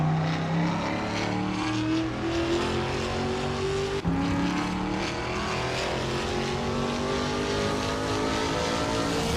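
2021 Ford Mustang Trans Am race cars in a racing video game, engines droning loudly and continuously with rising and falling pitch as they pass and shift.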